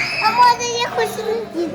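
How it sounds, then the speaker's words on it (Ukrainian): Many children shouting and squealing at a zoo, a lively close crowd of high young voices rising and falling in overlapping bursts throughout. "тут дуже багато дітей, так так багато криків"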